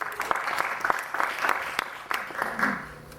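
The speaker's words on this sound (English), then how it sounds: "Nice round of applause for Tobias." An audience at a Victorian-style street magic show claps with scattered, uneven hands, loud and close, plus a few crowd noises mixed in.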